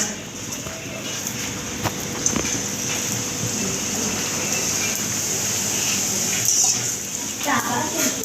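Luchi, puffed flatbread, frying in hot oil, a steady close hiss and bubbling crackle with sporadic pops throughout, while people talk nearby.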